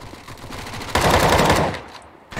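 An automatic rifle sprays a rapid burst in Counter-Strike: Global Offensive on the Inferno map: a steady run of close shots that swells into a louder, denser stretch, stops, and ends with a short extra pop.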